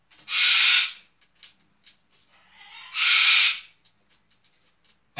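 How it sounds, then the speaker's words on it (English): A pet cockatoo lets out two loud, harsh screeches a couple of seconds apart in an indoor room, with faint clicks and small noises between the calls. "That's my cockatoo in the background."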